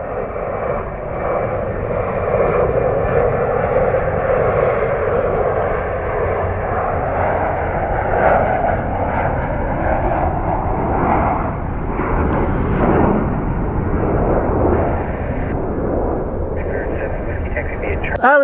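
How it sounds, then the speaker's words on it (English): An Air Canada Jazz Embraer E175 jet on arrival at Washington Dulles, a steady loud engine roar holding throughout with faint talk underneath. "It's a Embraer E175 coming in here on the right side from"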